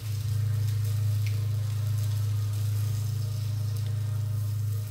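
A single small egg fries in a pan with a steady, continuous sizzle over a low, constant hum, fairly loud and unbroken for the whole stretch.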